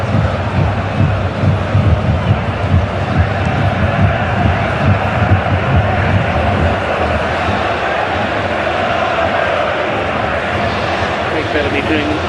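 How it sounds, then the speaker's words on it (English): A Partisan home football crowd roars and cheers without a break during a Wales versus Belgium World Cup qualifier, a dense, steady wall of distant voices that fills the stadium throughout. "Going to be greeted by cheers from the Partisan home crowd"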